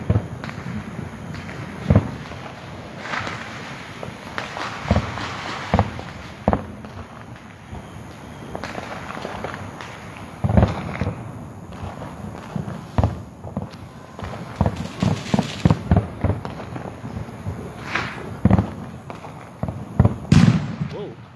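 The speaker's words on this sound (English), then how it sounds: "Out here watching fireworks." Fourth of July fireworks go off at a distance in repeated sharp bangs and crackling bursts that arrive in irregular clusters over a low outdoor background, while people talk intermittently.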